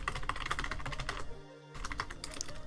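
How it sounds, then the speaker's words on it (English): Rapid keystrokes on a computer keyboard while entering networking code, steady clicking with a brief pause midway, close and moderately quiet with no talking. "Type that in."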